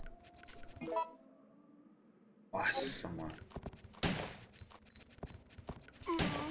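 Gunshots ring out in Resident Evil 3 Nemesis on Hard difficulty as several sharp, loud bursts, some in quick succession, with quieter clicks and game noise in between.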